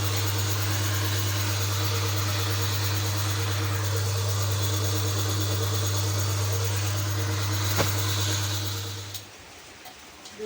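A Hero Glamour motorcycle engine idles steadily after a full engine rebuild in a workshop, humming loud and close before it cuts off near the end.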